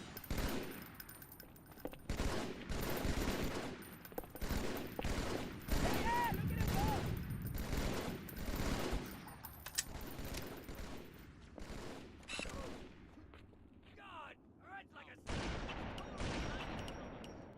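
Video game gunfire, including sniper rifle shots and a .50 cal, arrives as rapid bursts and volleys of cracks and booms with short pauses between, a voice talking faintly underneath.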